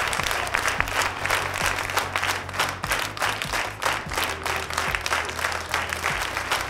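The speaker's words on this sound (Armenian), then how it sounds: "ծափահարենք ինչ է վերջ" Concert audience at a national singer gala clapping loudly and continuously, dense applause from a large crowd with a faint low musical hum underneath.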